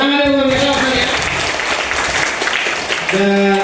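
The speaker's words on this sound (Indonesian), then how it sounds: "Tepuk tangan dulu bagi saya." Audience applause at an HNI business program gathering in Garut, a steady wash of clapping from a crowd, with a speaking voice over it at the start and end.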